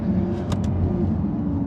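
Lamborghini Gallardo driving over a bumpy road, heard from inside as a steady low engine and road rumble with a couple of brief thumps from the bumps.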